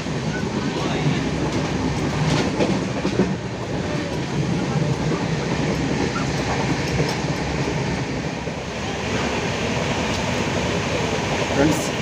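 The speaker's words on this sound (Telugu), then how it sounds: "మన రైలు స్టార్ట్ అయిన కొద్ది నిమిషంలోనే చాలా ఎక్కువ వేగంగా స్పీడ్ పట్టుకుంటారు మీరు" Visakha Express LHB train running on tracks, heard from inside a general coach as a steady loud rumble with faint rhythmic clatter, under indistinct voices.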